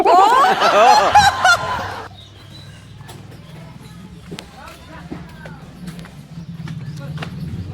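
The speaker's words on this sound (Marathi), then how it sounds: "बघा इकडे कोंबडा आहे" A rooster gives a loud, ragged crow up close for about two seconds, then fades into quieter outdoor background noise with faint scattered sounds.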